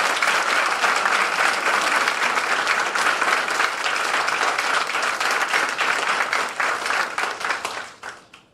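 Loud, dense audience applause at a military commissioning ceremony for new lieutenants, sustained and even for several seconds before tapering off at the end.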